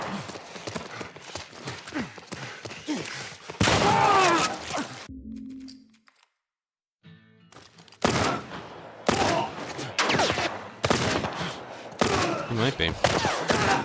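Rapid gunfire in The Last of Us Remake on PS5 at Grounded difficulty, loud bursty shots packed together, cut by a brief near-silent gap and then resuming, with someone briefly talking over it.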